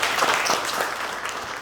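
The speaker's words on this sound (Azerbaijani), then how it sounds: "Özü də burada da alqışlayaq." An audience on an Azerbaijani talk show applauds with dense, steady clapping that fills the room at an even level throughout.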